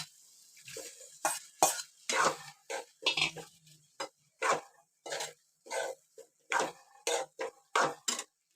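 Prawns stirred into a pot of cooking potato masala, with rhythmic scraping and clinking of a spoon against the metal pot in repeated short strokes and a faint sizzle, close and moderately quiet.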